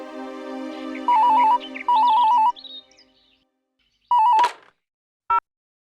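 Electronic phone tones: a few short beeping bursts like a ringing signal, then a brief click and one more short tone.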